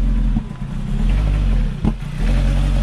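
A 2015 Jeep Patriot engine with its throttle body open, cranking and catching, then running with a low, steady rumble that briefly surges around a sharp knock near the end.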